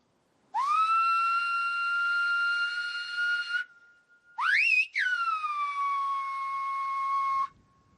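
A whistled word, "lito", in Silbo Gomero, the whistled language of the Canary Islands: two loud, clear sustained whistle phrases with a sharp rising swoop between them, heard alone with no speech.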